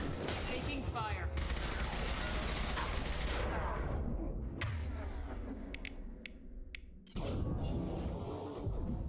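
Gunfire and bursts of shots in the video game Mass Effect 2, dense and loud with crackling impacts, a quieter stretch of scattered sharp shots, then heavy firing resumes, with talk over it.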